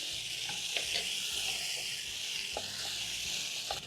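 Carrots sizzle steadily in a hot pan for eggplant stew, a close, even frying hiss with faint scraping stirs and small pops, no voices.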